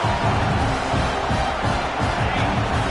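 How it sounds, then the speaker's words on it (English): A packed stadium crowd roars to back its defense at a football game, a dense, steady wall of cheering and shouting that stays loud and unbroken throughout. "Listen to this crowd just shaking the girders of this place trying to help their defense."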